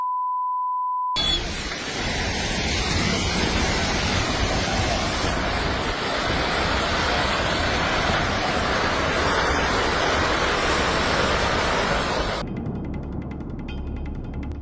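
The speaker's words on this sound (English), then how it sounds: "The sound of this landslide is so intense that it reminds me of a raging river." A landslide rumbling down like a raging river, a continuous dense roar of rushing debris that holds steady for about eleven seconds after a short beep tone, then cuts abruptly to quieter background.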